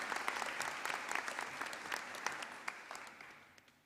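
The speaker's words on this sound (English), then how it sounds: "Give them a big round of applause" A school audience at a girls' high school awards ceremony claps for subject prize winners, a dense patter of many hands that starts strong and gradually tapers off.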